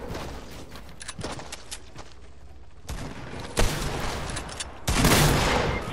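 Fortnite gunfire crackles in rapid bursts from a video game, quiet at first and then growing louder and denser toward the end, with no voices over it.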